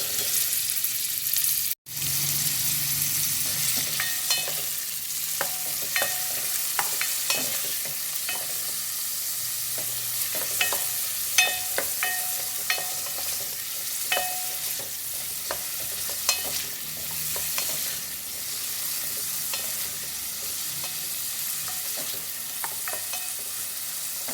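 Two medium-sized onions brown in a pan for an egg and potato curry, with a steady close sizzle and frequent scraping, clicking strokes of a spoon stirring them throughout.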